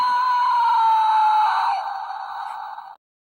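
A toy monster playset from the 1980s or 1990s lets out a little electronic scream, a single sustained high-pitched cry lasting about three seconds that cuts off abruptly, heard up close with no talking.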